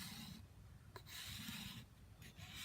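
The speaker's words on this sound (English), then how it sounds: "Just sit on the bow and start scraping it." A drawknife or scraper rasps along a green wood bow stave whose wood has hardened, giving soft, steady rubbing strokes with brief pauses, fairly quiet and close, with no talk over it.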